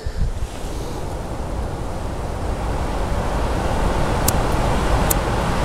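Steady, broadband wind rumble buffeting outdoors, constant and fairly loud throughout, with no voices.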